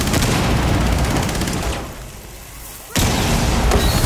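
Loud, continuous gunfire and booming blasts from a Rainbow Six Siege firefight, sustained then briefly dropping away before resuming abruptly at full strength.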